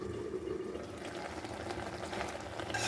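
A covered pan of bean curry made with mustard and kasundi, cooking over a high gas flame, gives a continuous close bubbling and sizzling simmer that holds steady and then swells slightly at the end, with no talk.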